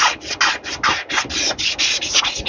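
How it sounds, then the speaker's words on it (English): Hand sanding a part of a Duromax engine starter: quick rhythmic rasping strokes, about a dozen back-and-forth rubs, close and fairly loud. "sand it."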